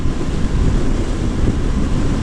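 Constant wind roars and buffets the microphone in a dense, rumbling rush with no pauses.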